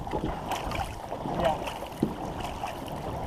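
Paddles of a war canoe stroking through open water during practice, soft splashes and wind noise blending together, with a sharper dip near the end and voices talking faintly in the background.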